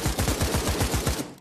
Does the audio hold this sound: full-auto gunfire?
yes